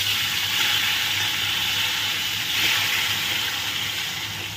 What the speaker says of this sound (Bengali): দিয়ে দিচ্ছি কেটে রাখা টমেটো